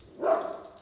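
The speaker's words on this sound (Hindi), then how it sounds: "बाहर कुत्ते भौंक रहे हैं।" A single short, muffled bark sounds from some distance, faint against a quiet background.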